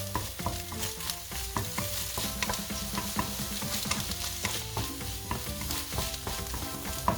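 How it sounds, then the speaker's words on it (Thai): Shrimp are stir-fried with egg in a hot pan for pineapple fried rice, with constant sizzling broken by repeated scraping and clanking of a spatula against the pan, no voices. "ใส่กุ้งลงไปผัดครับ"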